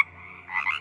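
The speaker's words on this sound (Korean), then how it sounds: "먹먹해질 정도로 개구리 울음소리가 들리더래요." Frogs croaking in rice paddies at night, a dense chorus of overlapping calls that grows louder and busier partway through, with no voices.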